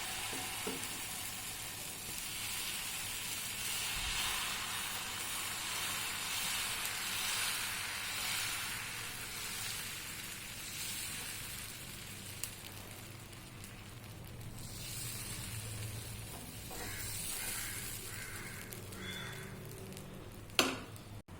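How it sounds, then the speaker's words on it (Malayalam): Pokkali red rice dosa batter on a hot pan gives a long, steady sizzle that swells and eases, ending in a few sharp utensil knocks. "ഇപ്പം നമ്മുടെ പാന് ചൂടായി വന്നിട്ടുണ്ട് നമുക്ക് ഇതിലേക്ക് ദോശ ദോശമാവ് ഉപയോഗിക്കാം"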